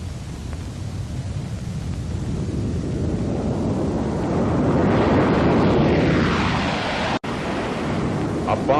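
A Boeing B-47 Stratojet jet bomber roars overhead, a broad rushing noise that swells and sweeps in pitch as it passes, heavy with wind buffeting and broken by a brief cut near the end.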